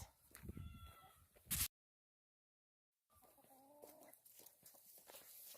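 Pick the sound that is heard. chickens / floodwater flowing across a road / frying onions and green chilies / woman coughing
chickens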